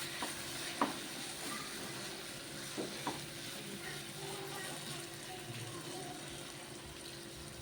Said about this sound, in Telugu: మనం వేసిన మసాలా ఇట్లా కలుపుతామండి